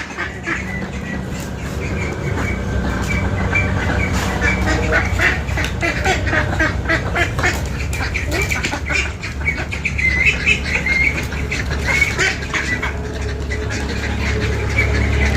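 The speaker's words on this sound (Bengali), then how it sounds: "ওই যে আরো হাঁসরা বের করেছে একেবারে দলে চলে গেল" A flock of ducks heads out together, quacking loudly and continuously, with wing flapping and farmyard commotion throughout and faint voices in the background.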